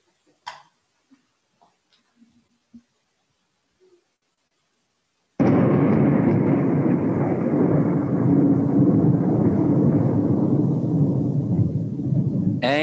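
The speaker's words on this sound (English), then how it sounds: "We're going to hear some thunder." Loud thunder sound effect rolling in abruptly after a few faint ticks and knocks, a sustained deep rumble that carries on steadily to the end with no one speaking.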